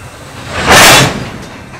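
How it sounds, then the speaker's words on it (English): A short, loud rushing roar swells and fades as something large passes close by, leaving a low rumble behind. "I can see the end of the train!"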